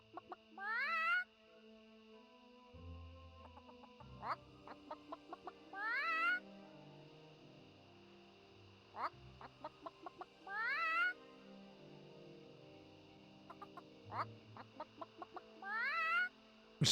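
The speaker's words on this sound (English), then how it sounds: "We have to find a chicken." A chicken in the World of Warcraft video game gives repeated short clucks and rising squawks in rhythmic bursts, over quiet game background sounds with soft stepping clicks.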